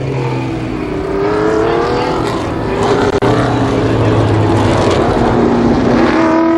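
Several ARCA stock cars lap Columbus Motor Speedway under race conditions, engines droning loudly and continuously with rising and falling pitch as they pass, a steady roar from start to finish.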